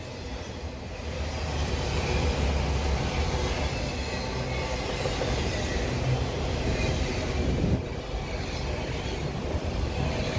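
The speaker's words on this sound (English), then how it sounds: "This train always moves really fast, too." A fast train rumbles steadily through a historic downtown in Douglasville, Georgia, a dense, broad roar of rolling wagons that stays loud and close throughout with no pauses.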